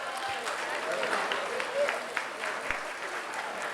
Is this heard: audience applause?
yes